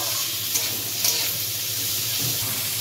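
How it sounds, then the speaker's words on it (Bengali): Carrot, beans and capsicum frying lightly in oil in a pan, a steady close sizzle with a few faint stirring clinks. "সবজিগুলো আর কিছুই না, একটু হালকা করে একটু ভাজা ভাজা করে নিতে হবে"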